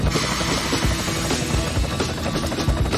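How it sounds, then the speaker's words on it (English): A helicopter sound effect in an alphabet learning game for children: a loud, steady rotor whir and chop fills the whole stretch, with no voices over it. "H for helicopter."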